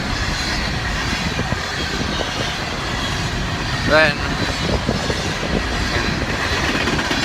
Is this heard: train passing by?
yes